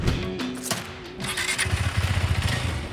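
KTM RC 390 motorcycle engine pulling away as a ride begins, a low throbbing single-cylinder note with pulsing revs building over a few seconds after some thumps and scrapes.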